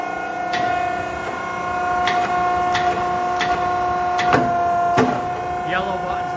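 An 8 ton Hannifin hydraulic press, wired for 230 volts, runs down under a steady mechanical hum with distinct tonal whine, punctuated by several sharp clicks and knocks at intervals.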